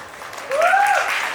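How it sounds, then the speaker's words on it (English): A crowd at a sustainability-in-music panel applauds, clapping swelling in halfway through a brief moment while a voice sounds over it. "One more round of applause for your panelists"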